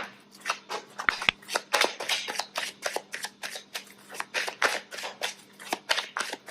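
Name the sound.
tarot cards being shuffled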